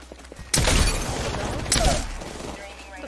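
Video game gunfire crackles in two loud bursts of rapid shots, the second shorter, over a low background rumble.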